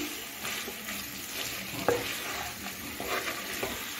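Mixed vegetables being stirred with salt in a frying pan, a continuous moderate sizzle with a scraping spatula and a few sharp clinks from the pan, no talking.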